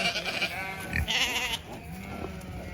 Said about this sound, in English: Here's all the sheep coming in.